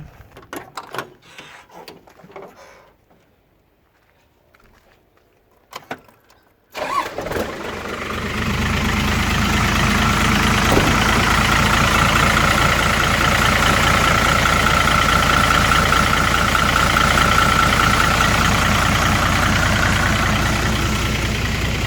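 A vehicle engine, just after an oil change, cranks and catches after a few seconds of quiet clicks and handling noises, then settles into a loud, steady, close idle that runs to the end.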